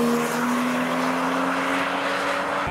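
A Nissan S14 rolls in at a Japanese car meet, its engine note droning steadily and loudly up close for the whole stretch, with no talk over it.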